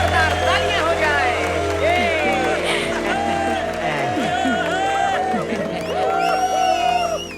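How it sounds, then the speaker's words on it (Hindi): A crowd at an annual celebrity-guest event cheers for actress Tamannaah Bhatia, with loud, steady applause, whoops and excited voices running through the whole stretch under bright music. "जोरदार तालियां हो जाए।"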